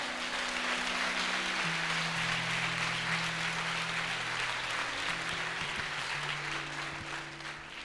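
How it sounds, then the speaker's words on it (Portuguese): Church congregation applauding during an evening worship service, a broad steady wash of clapping with sustained organ or keyboard tones underneath, gradually easing toward the end. "Então dá uma salva de palmas ao Senhor."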